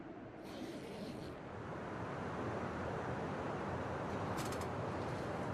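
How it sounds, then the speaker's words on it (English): Strong wind in the video game The Long Dark roars in a broad, steady rush that swells slightly louder partway through, with no voices present. "Sounds like we got some very nasty wind."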